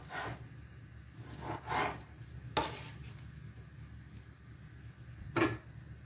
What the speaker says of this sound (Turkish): Tavuk göğsümü şimdi şöyle ufak ufak doğrayalım.